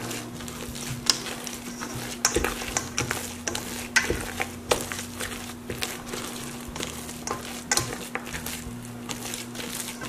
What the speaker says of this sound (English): we're going to put in the cranberries next. You want to fold those in.